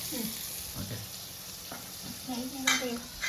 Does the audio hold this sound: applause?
no